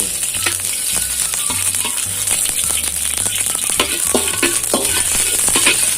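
Pork lard sizzling in a pan as fried rice with grilled fermented pork sausage gets underway, a steady loud crackling hiss with scattered pops and stirring clatter throughout.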